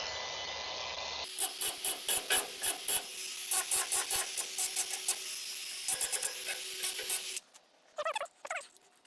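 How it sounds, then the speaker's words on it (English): Welds on a metal gate are cleaned up with a power tool in repeated short rasping bursts, a rhythmic scraping grind stopping and starting over a steady background hum, followed by a few scattered scrapes. "we're gonna clean up the welds"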